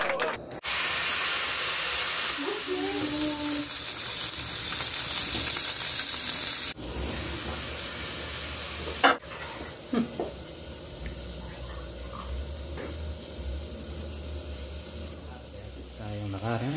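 Chicken for ayam bekakak, a roast chicken dish, sizzles loudly and steadily in a hot Teflon pan as a dense frying hiss that runs almost unbroken, with a brief dip and a few knocks, while voices talk faintly underneath.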